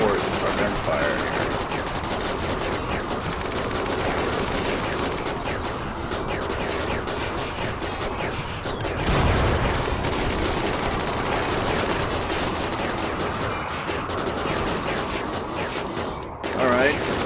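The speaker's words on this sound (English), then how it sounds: "why don't you support our gunfire?" Rapid bursts of gunfire from a firefight in the video game Rimworld, dense and continuous across the whole stretch with a heavier thump midway, with voices mixed in underneath.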